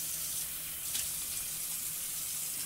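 Water runs steadily while rinsing cleaner off a porcelain farm sink, a soft continuous hiss and splash at moderate distance with a brief brighter gush near the middle.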